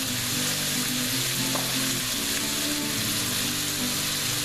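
Chopped yellow and red onion fry in a pan with a steady, loud, close sizzle that holds without a break the whole time, with a faint scrape or two of stirring.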